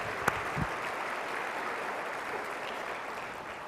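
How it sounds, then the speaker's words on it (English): Audience at an awards banquet applauding, a dense, steady wash of clapping that holds at an even level from start to finish, with a couple of sharper claps near the beginning. "Let's give them another round of applause."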